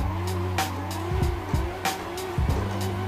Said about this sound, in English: Can hear him squeal.